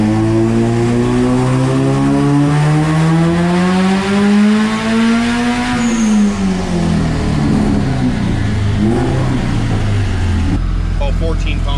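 A turbocharged, methanol-injected Honda Prelude H22 engine revs on a dyno, climbing steadily in a loud, continuous whine, then dropping off and sputtering down near the end.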